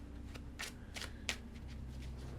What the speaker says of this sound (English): Shuffle this deck really quick.